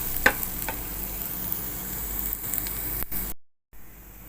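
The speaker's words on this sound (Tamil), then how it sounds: "இது கூடவே வேக வச்சு மசிச்சு வச்ச உருளைக்கிழங்கு சேர்த்து இதில் வதக்க போகிறேன்." Boiled mashed potatoes sauté in a pan with a soft, continuous sizzle and occasional stirring scrapes, faint and close, briefly cutting out near the end.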